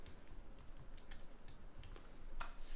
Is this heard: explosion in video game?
no